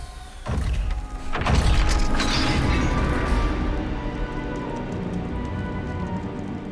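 Confringo blasting spell explosion in the video game Hogwarts Legacy: a loud, heavy boom with crashing debris that peaks early, then a rumbling, crackling tail fading over several seconds.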